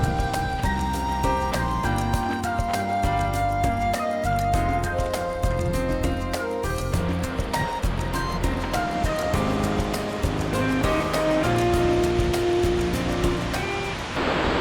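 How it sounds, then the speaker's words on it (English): Rushing water from a waterfall fed by Sunrift Gorge in Glacier National Park, near Mary Lake, a steady broad roar running continuously under tonal musical backing, with no voices. "This waterfall is coming down from the Sunrift Gorge."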